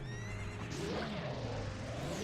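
A horse in Zelda: Ocarina of Time lets out a long, wavering neigh that rises and falls in pitch over about two seconds, loud and close, over a steady background.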